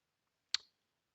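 A single crisp computer mouse click on an installer file, very close and brief, alone in near silence.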